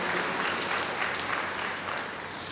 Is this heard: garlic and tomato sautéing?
no